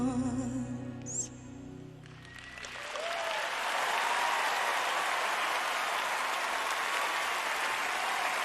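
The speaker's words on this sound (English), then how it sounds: "Give yourself some applause" Audience applause at the Oscars ceremony, rising after a few seconds of orchestral music into a loud, sustained roar of clapping from a large crowd that continues to the end.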